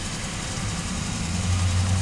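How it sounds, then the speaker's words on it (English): A 2002 Pontiac Grand Am with a V6 engine idles steadily nearby, a low, even rumble with a faint hum rising toward the end. "Got the V6 engine."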